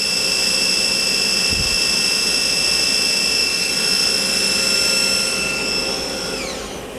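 A Star SV32J CNC Swiss lathe's main spindle runs at a steady 7,000 RPM, a loud, sustained high-pitched machine whine with a constant tonal hum that begins to wind down just before the end.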